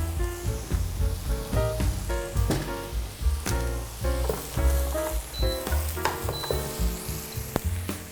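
Vegetables stir-fried in a pot sizzle steadily, with repeated scraping and clanking of a utensil against the metal and a rhythmic stirring pulse running through the whole stretch.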